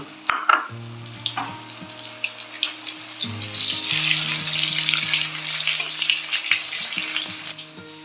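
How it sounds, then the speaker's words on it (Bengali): Potatoes fry in hot oil while being stirred for a winter duck curry meal, giving a steady close sizzle with intermittent scraping and clinking of the spoon against the pan, and no talking. "ভাজা হচ্ছে আলু।"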